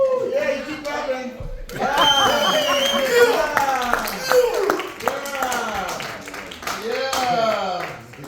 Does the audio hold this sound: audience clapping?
yes